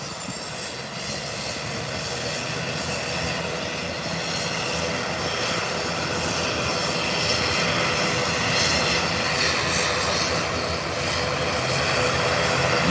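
A British Airways Boeing 777 taxis back to the parking gate, its jet engines giving off a loud, steady roar that swells slightly over the stretch.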